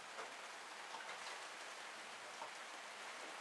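Heavy rain pours steadily on Sassoon Bay in a dense, even hiss with no breaks, constant and fairly close, with no voices.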